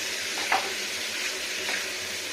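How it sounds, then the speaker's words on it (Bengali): Country chicken sizzles as it is sautéed in a pan, a steady close frying hiss with a couple of faint stirring scrapes. "মাংসটাকে কষিয়ে নিই ভালো করে"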